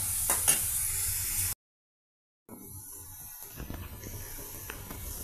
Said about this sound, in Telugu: ఇలాగ హై ఫ్లేమ్ మీద మన ఆలు పీసెస్, అదేనండి బంగాళదుంప పీసెస్ ఫ్రై అవుతున్నాయండి